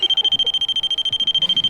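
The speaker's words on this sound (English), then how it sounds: "It literally just went beep beep." An electronic device gives a rapid, steady series of high-pitched beeps, loud and close, repeating evenly for the whole moment with no voices.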